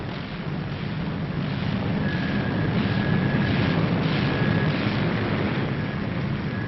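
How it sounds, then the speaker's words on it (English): A propeller plane being turned into the wind by ground crew, its engine a steady, continuous drone under heavy wind rumble, with no talk heard. "the first plane hauls her nose round into the wind"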